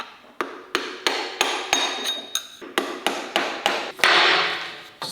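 Hammer tapping on Bentley Continental GT engine parts near the power steering pump, about a dozen sharp metallic blows in a steady rhythm, close and loud, with no talk.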